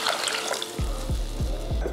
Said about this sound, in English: And add in 2 cups of some water.